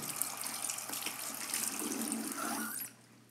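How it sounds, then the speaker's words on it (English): A sink tap runs steadily while hands are washed beneath it, a close, even broadband rush with faint splashing changes, cutting off near the end. "turn on the water and start scrubbing your hands like this"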